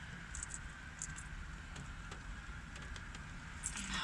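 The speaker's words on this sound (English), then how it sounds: "It's raining harder." Steady patter of rain drumming on a car roof, with scattered sharper drops ticking against the surface throughout; no voices.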